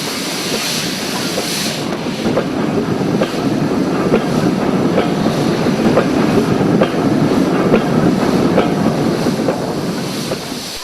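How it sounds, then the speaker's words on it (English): Great Western Pannier Tank 9642 steam locomotive giving rides on the Maesteg system in Wales, heard as a steady, loud rolling rumble of the train with rhythmic clickety-clack of wagon wheels over rail joints, running continuously throughout. "Great Western Pannier Tank 9642 was used to give rides over part of the Maesteg system towards St John's."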